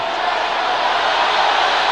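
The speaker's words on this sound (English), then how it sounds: "Crowd doesn't like it" Cricket crowd at a match reacting with broad, steady murmuring and jeering after a West Indies batsman is run out, a dense wash of many distant voices holding at even loudness.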